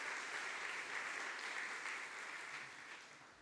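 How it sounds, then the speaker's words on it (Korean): A church congregation claps together to welcome visiting guests during a Sunday worship service, a steady, dense wash of applause that stays even throughout and fades slightly toward the end. "우리 박수로 환영하겠습니다."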